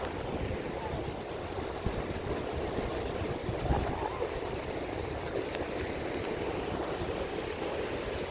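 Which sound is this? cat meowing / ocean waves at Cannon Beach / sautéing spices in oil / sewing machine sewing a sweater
ocean waves at Cannon Beach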